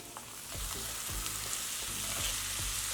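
Sliced tomatoes hit hot oil with onions in a pan for a village-style tomato-onion chutney, giving a steady loud sizzle with rhythmic stirring scrapes repeating about every half second, no voices.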